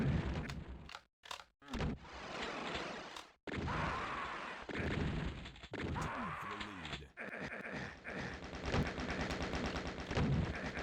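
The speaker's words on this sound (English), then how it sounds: "Dante wanting to mulch Despero with that chain gun" Rapid automatic chain gun fire and other weapon blasts ring out during a competitive arena shooter duel tournament match, dense and loud with brief gaps between bursts.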